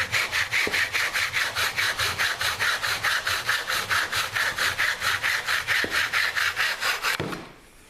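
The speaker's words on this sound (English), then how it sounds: "move the saw backwards and forwards" Hand saw cutting through wood to make tangram pieces, a steady, even back-and-forth rasp of about thirty strokes, close and loud, that stops abruptly near the end.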